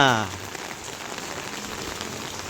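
Rain falls outdoors in a steady, even patter on surfaces, moderately loud and continuous, with a brief voice fragment at the very start.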